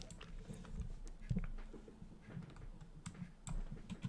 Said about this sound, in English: I'm just like typing random gibberish in Google